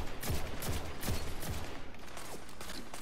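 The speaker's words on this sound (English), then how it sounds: "why are people shooting at me?" Gunfire in Destiny 2 Control mode sounds as a few quick, moderately loud shots spaced roughly every half second. A faint mechanical clatter sits beneath them and no one speaks.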